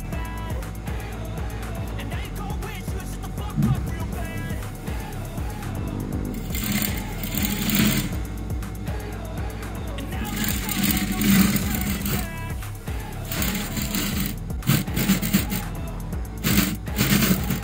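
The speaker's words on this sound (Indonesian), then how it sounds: "ini mau aku langsung jahit, jadi aku lipat langsung seperti ini sekitar 1 jari" A sewing machine stitches a hem folded about one finger wide on a piece of clothing being repaired, giving a steady, close mechanical whir that runs throughout with some faster bursts.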